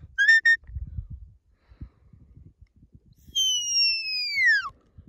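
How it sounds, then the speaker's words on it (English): A sheepdog handler's come-by (left) whistle on a ranch with working dogs: a short trilled burst, then a long, loud, falling whistle, both over faint rustling outdoor background. "That's her come by or left whistle."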